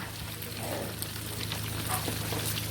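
Steady sizzling and crackling of a large tilapia, about one kilo, deep-frying in hot oil over low heat, continuous and fairly close, with a low hum underneath and no talking.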